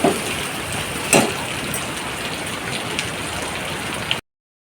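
Onions sautéing in a hot pan for restaurant-style chilli chicken: a steady, even sizzle and crackle like light rain, with one brief louder spatter near the start.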